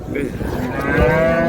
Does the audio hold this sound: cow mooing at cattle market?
yes